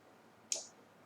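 A single sharp computer mouse click, quiet and close, standing alone against faint background hiss.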